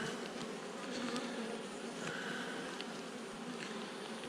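Honey bees buzz steadily around lavender, a continuous close droning hum with individual insects swelling louder as they pass nearby.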